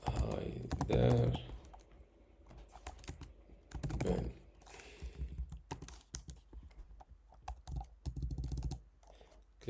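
Keys clatter on a computer keyboard while an email is typed, irregular bursts of close clicks with short pauses, alongside occasional speech.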